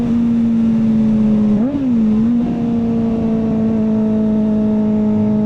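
A Kawasaki ZX-4RR motorcycle fitted with a slip-on exhaust idles at a high, steady pitch close by, with one brief blip of the throttle partway through before settling back to the same even drone.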